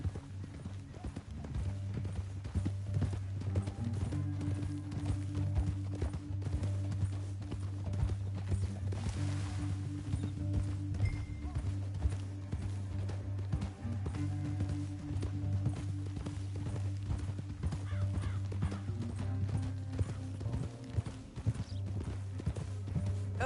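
Horses' hooves clip-clop steadily along a trail in a canyon for a long stretch, a continuous rhythmic clatter of several animals at moderate distance, with occasional faint voices and a brief whinny.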